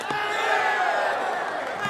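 Crowd noise at a sepak takraw World Cup match on an indoor court, a sustained broad roar of cheering spectators with a commentator's voice running over it.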